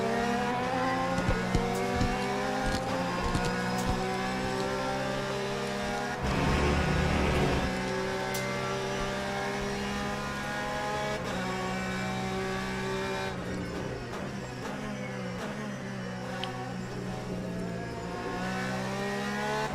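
Race cars in the Le Mans Ultimate sim racing game, a steady, loud engine roar with shifting pitch as cars pass, tyre squeal and skidding bursts, and a heavier rush of noise in the middle as traffic goes by.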